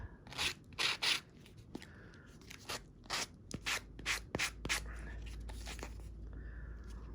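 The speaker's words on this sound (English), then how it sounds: "I have a little bit extra here, so I'm going to give it a good sand." Several short, scratchy bursts of hand sanding on a small craft piece made with Dollar Tree supplies, uneven in rhythm, then a low steady hum underneath.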